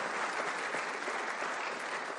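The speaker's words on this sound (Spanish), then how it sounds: "vamos a darle un aplauso a Dios" A church congregation claps together in steady, dense applause that holds at an even level from start to finish, with no voices standing out.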